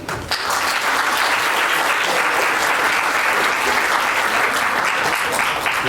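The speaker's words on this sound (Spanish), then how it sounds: "Lo recibimos con un fuerte aplauso." Sustained, loud audience applause fills a lecture hall as a speaker is welcomed to give a talk on computational models, steady dense clapping from start to finish.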